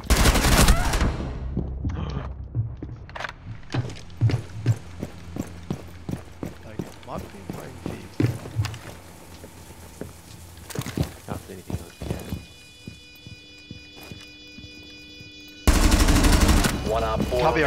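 Rapid bursts of gunfire ring out in a tactical shooter match, loud sharp cracks repeating in quick volleys with a steady stream of shots, while players talk over the action throughout.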